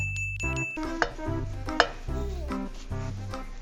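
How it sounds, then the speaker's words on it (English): Marshmallows melting in butter over low heat are stirred in a pot, giving a soft, steady scraping swirl with a faint sizzle and a couple of brief sharp clinks, with no talking. "Add the marshmallows to the butter. Okay, now turn it on low heat"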